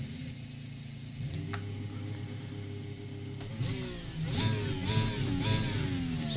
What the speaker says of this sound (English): She sounds good. Sounds like a Formula 1 car